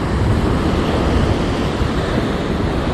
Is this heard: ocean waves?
yes